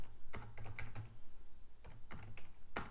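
Computer keyboard typing close up, with short bursts of quick keystrokes separated by brief pauses, fairly quiet.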